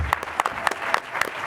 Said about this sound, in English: So let's have a warm round of applause as well for Bryn